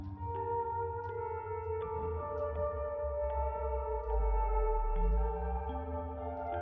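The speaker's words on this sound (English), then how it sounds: "I know this melody. I might remember more if I play it on the piano." A slow piano melody from the Fatal Frame video game plays as sustained single notes over a low rumbling drone, moderately quiet with no talking.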